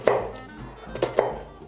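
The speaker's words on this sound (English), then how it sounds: "Otherwise, it's quite difficult to cut onion" Knife chopping onion on a board in a home kitchen while making beef Wellington: a few separate sharp thuds, louder strikes near the start and again around the middle, with soft background between.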